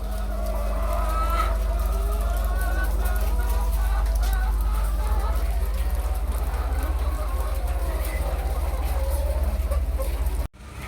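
Chickens at a farm shed clucking intermittently over a steady low hum of background noise, the birds moderately near and not especially loud, with no talk.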